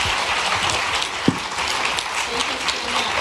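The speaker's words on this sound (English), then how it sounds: "please join me in a round of applause to thank all of our panelists on this topic." Audience applause for a panel at a White House summit on child care and paid leave, a steady broadband wash of clapping filling the whole stretch without talk over it.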